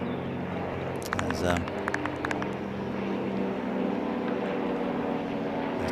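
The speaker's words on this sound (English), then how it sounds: "there's a plane going overhead, so it's kind of... That's pretty noisy" An airplane passes overhead during a T10 European Cricket match, a broad droning roar that swells and holds under a commentator's voice and some crowd clatter, moderately loud and sustained.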